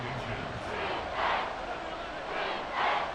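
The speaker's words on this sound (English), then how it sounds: "this crowd trying to force a false start here" Stadium crowd noise from the Madden NFL 24 football video game, a steady roar that swells in waves as fans try to force a false start, with surges rising and falling over a continuous din.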